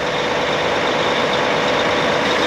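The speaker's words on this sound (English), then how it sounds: "We just fired up the tractor here." A farm tractor, just started, runs loud and steady with a dense, rough engine roar that holds constant throughout, close by.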